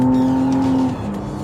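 A 2024 McLaren Artura supercar with 700 horsepower accelerating, a loud close engine drone with a steady pitch that drops and shifts near the end, heard from inside the car.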